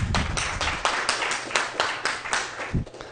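A small group clapping hands in a brisk, fairly regular rhythm, sharp claps repeating for a few seconds, close and without talk.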